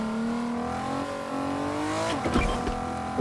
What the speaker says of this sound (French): Ouais, la voiture.